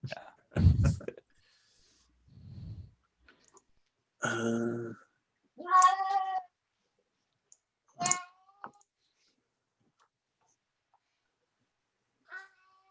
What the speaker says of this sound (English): Cat has very strong opinions.